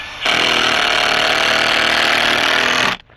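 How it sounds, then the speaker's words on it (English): A power drill whirs loudly and steadily for nearly three seconds driving a 2-inch exterior screw through a wooden stake into a frame, then abruptly stops. "I'm going to take my 2-inch exterior screws, drill through"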